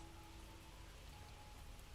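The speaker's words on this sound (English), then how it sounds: "Okay, so it is raining." Steady rain in the video game Kitaria Fables, a continuous soft hiss of rainfall with low rumble, even and unbroken throughout with no talking.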